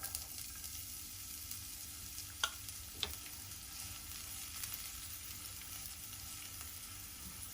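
Finely chopped onion frying in two tablespoons of oil in a pan gives a steady, faint sizzle, with a couple of brief utensil clicks partway through.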